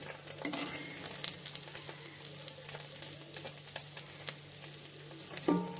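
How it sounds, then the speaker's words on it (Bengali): Fish frying in a pan gives a steady, fairly quiet sizzle with scattered crackles and spits all the way through, and a louder clatter near the end; no speech. "এই যে মাছ ভাজা আমি শিখে গিয়েছি।"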